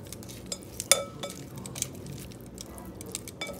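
Utensil clinking and scraping in a bowl as ingredients for lobster ravioli are stirred together, with irregular light clicks and taps at close range and no voices.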